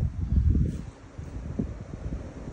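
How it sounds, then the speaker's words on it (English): Wind gusts rumble against the microphone, strongest at the start, then settle into a softer, fluttering rush. "It's a little windy today."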